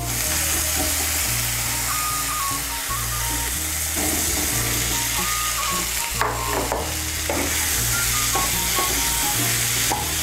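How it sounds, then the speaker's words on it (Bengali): Fried potatoes and peas stirred into sizzling masala in a pan, with a steady loud frying hiss and repeated scraping stirs throughout, and faint music underneath. "আলুটাকে মশলার সঙ্গে ভালো করে মিশিয়ে নেব"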